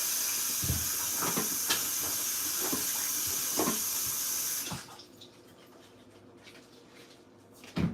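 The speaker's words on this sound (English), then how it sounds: "Let's wash my hands and wash this plantain." Running tap water splashes steadily into a sink while hands and plantain are washed under it. The hiss cuts off halfway through, leaving faint handling clatter, and no one speaks.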